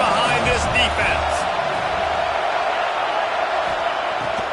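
A stadium crowd roars at an American football game during a big third-down defensive stand, a dense, steady wash of cheering noise under and around commentary.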